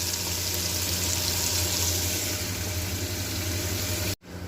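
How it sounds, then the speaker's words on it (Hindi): Water runs steadily into a pot of turnips cooking on a home kitchen stove, a close, even rush under faint sizzling that continues for about four seconds and then stops abruptly, with no talking. "तो फिर इसमें पानी भी कम ही डालना।"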